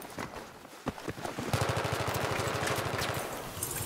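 Rapid strafing automatic gunfire in a 6v6 multiplayer shooter match: a few scattered shots, then a sustained, evenly pulsed burst of rounds that runs loud and close to the end.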